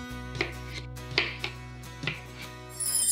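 A few close knife thuds against a cutting board as a washed potato is cut in half, spaced irregularly, quiet and crisp over a soft room hum.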